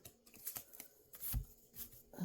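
Tarot cards being shuffled by hand in a quick hasty burst, with soft papery riffles and a few sharper card slaps, close and fairly quiet, with no talking.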